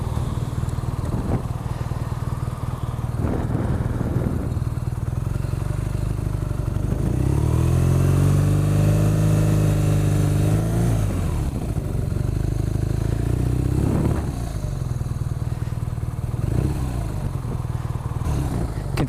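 A BMW R nineT Racer's boxer twin idles with a steady rumble, then revs up in one long swelling blip around the middle before dropping back, with a few shorter throttle blips later, heard from the rider's position.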